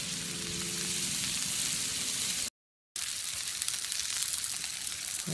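Babybel-stuffed Juicy Lucy burger patties sear on a Camp Chef Pro 90X griddle with a dense, steady crackling sizzle, close and even, broken by a short dropout to silence partway through.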